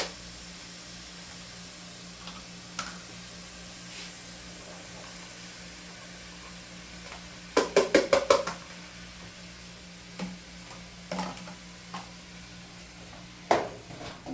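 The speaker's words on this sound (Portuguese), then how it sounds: "Agora nós vamos refogar um pouco eles. Vamos colocar o nosso camarão seco" Dried shrimp being sautéed in a pan for Brazilian caruru, heard as a quiet background broken by a quick run of sharp utensil clatters and a few isolated knocks against the pan.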